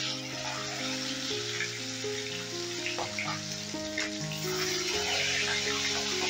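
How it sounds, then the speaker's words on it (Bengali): Pieces of katla fish frying in a small amount of salted oil, a steady close sizzle running under background music. "এবারে এই পিঠটাকেও হালকা করে ভেজে নেব।"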